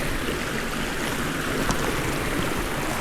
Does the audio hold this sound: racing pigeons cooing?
no